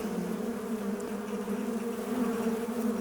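Bees buzzing near a cave, a steady close droning hum with a mid-pitched whine that holds throughout, no voices.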